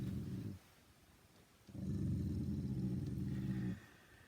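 A puppy growls low and rough, in two sustained rumbling bursts separated by a quiet pause, fairly close with no talking.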